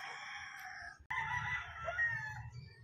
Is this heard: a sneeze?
no